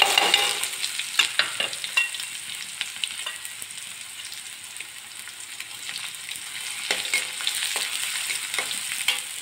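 Onions sizzle and fry in a pan in a village kitchen, stirred with a spoon that scrapes now and then, a steady close crackle under occasional clinks and no talk.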